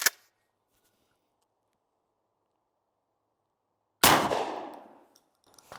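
A Beretta 1301 shotgun with an improved cylinder choke fires a nine-pellet double-aught buckshot load in one loud, sharp blast that rings out and decays over about a second, after a long near-silent pause and a faint click at the start.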